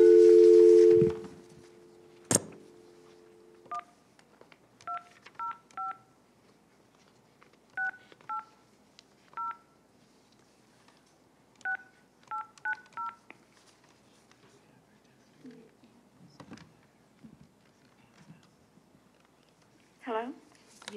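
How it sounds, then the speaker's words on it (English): A telephone being dialed to place a call during a committee meeting: an opening dial tone, then a series of short, evenly spaced keypad tones, followed by faint clicks and rustles, heard alone without talking. "I'm going to make that phone call now"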